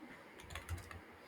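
Quiet typing on a computer keyboard, a short run of light key clicks at low level with no voices.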